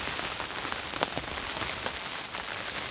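Steady rain patters on a surface outdoors at a carp fishing spot, a dense even hiss with scattered sharper drops, no voices.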